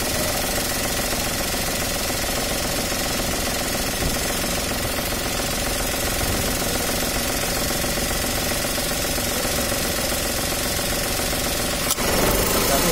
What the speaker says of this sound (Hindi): कंप्रेसर आप देख पा रहे हैं अभी चालू है